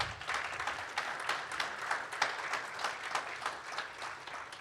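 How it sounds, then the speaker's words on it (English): An audience at a Springfield Women In Tech report-release event applauds its sponsors, giving steady, fairly distant clapping from many hands that fills the whole stretch at moderate volume. "Could we get a round of applause for our sponsors?"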